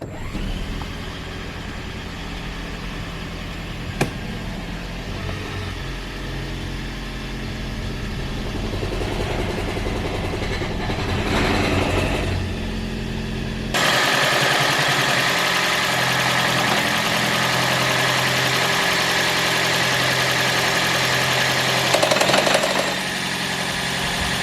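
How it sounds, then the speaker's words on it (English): A 2015 Toyota Prius C with a 1NZ engine idles steadily with a rattling, knocking noise, close and continuous, its tone shifting partway through as the idle changes. "when we starting in the engine, the bad rattle noise."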